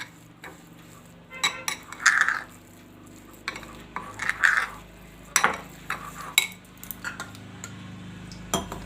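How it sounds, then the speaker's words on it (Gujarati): A spoon stirs semolina dhokla batter as water is added, giving scattered clinks and scrapes against a bowl in uneven bursts, close and fairly quiet, with no talking. "તો આ રીતે આપણે મિક્સ કરી લેવું। આપણે જોઈએ એ પ્રમાણે આપણે આમાં પાણી નાખવાનું"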